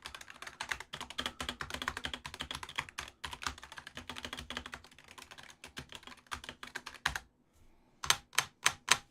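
Rapid typing on a Razer Huntsman V3 Pro TKL keyboard, close and crisp, with dense clattering keystrokes, a short pause, then a few separate sharp key presses.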